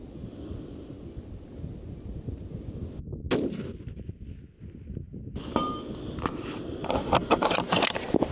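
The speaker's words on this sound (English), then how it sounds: "we'll fire two shots at that distance there" Two rifle shots fired at a distant target outdoors, sharp reports standing out over steady wind and ambient background noise, with no talk.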